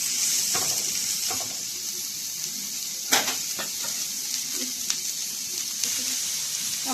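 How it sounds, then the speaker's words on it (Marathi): Onion browning in a pan hisses in a constant soft sizzle, with occasional light clicks and taps of a utensil against the pan throughout. "कांदा आपल्याला लाल होईपर्यंत हा भाजून घ्यायचा आहे।"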